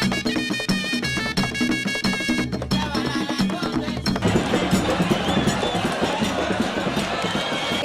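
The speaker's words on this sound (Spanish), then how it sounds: "La conga santiaguera suena así." Conga santiaguera street music from Santiago de Cuba plays loud and busy, first with bright repeating brass or horn lines over pounding drums, then a dense rush of percussion and crowd noise.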